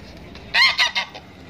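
At a livestock market in Bahrain where ducks and chickens are sold, a bird gives a quick run of three or four loud, nasal honking quacks close by, then falls quiet.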